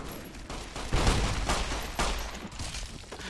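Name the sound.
gunfire in the video game Fallout New Vegas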